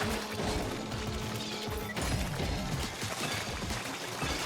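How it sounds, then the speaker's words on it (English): Waves crashing in the Splatoon video game, a dense, continuous roar of surging water and splashes at steady loudness throughout, with a sharp hit midway. "those are a lot of waves"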